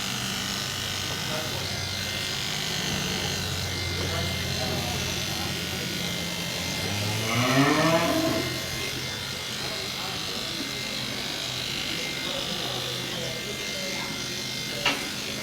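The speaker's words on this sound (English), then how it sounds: "he's changing the angle of his clippers all the time, trying to get in between each bone and curve" Electric clippers buzz steadily on a show animal's hair, a constant close drone that rises briefly as the blade angle changes, with a sharp click near the end.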